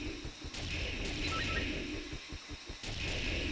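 Rapid video game gunfire in Jet Force Gemini, a steady stream of loud blasting shots with sharp repeated bursts and whooshing energy tones throughout.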